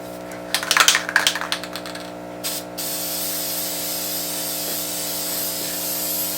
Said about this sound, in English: Next step is to paint the casing, and this paint is working great.